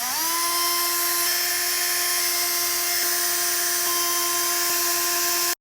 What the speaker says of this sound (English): we're gonna take these 6 screws out and show you what's underneath